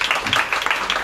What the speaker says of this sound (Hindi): ताली बजा के परमेश्वर का धन्यवाद करें।